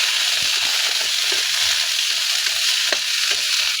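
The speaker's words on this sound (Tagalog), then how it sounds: "Halo-haloin natin hanggang sa pumupula-pula siya." Water spinach (kangkong) for adobo stirs in a hot pan, a steady close, loud sizzle broken by soft clicks and scrapes of the spoon, with no talking.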